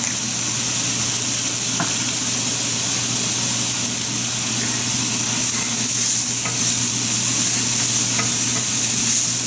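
Onions fry in a pan used for pan-fried salmon, making a loud, continuous sizzle with a low steady hum underneath and a few faint clinks of stirring.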